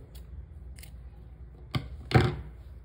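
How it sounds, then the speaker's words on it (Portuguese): Scissors cut crochet yarn while a crochet bag is finished, with a couple of faint light ticks followed by two sharp, close snips near the end. "Agora sim, vamos cortar o fio."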